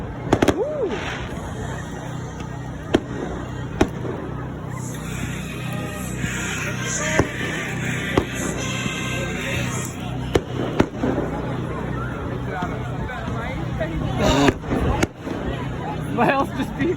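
Fireworks go off at a high school pep rally, sharp bangs and crackling bursts scattered throughout, heard from a moderate distance beneath nearby people chatting and cheering.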